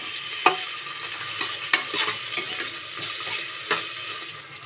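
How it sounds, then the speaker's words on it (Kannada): Sliced onions fry in oil inside a cooker, sizzling steadily up close while a spoon scrapes and knocks against the metal in irregular strokes. "ಈರುಳ್ಳಿ ಹಾಕೋಬಿಟ್ಟು ಕೆಂಪು ಫ್ರೈ ಮಾಡ್ಕೋಬೇಕು"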